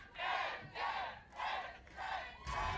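An esports watch-party crowd chants a player's name, Tens, in five loud rhythmic shouts at an even pace, each separated by a short gap.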